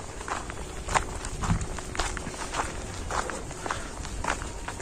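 Footsteps walk at a steady pace, each step a soft crunch, close by and repeating evenly.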